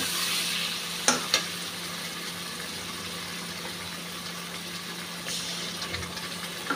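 Small fish frying in plenty of oil with turmeric and chili powder, a steady loud sizzle with a few clinks and stirring scrapes, no talking.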